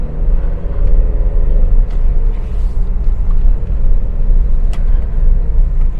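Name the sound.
large trucks and traffic on road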